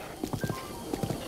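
Horse hooves clip-clopping at a steady riding pace in Breath of the Wild, a rhythmic series of soft thuds in small pairs over a quiet musical bed.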